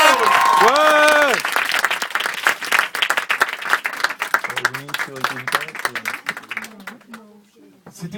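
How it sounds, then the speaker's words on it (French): Audience applause at an improv match show, loud and dense at first with voices speaking over it, then thinning out into scattered claps as the talking continues. "Et on les applaudit bien fort, c'était les Joao."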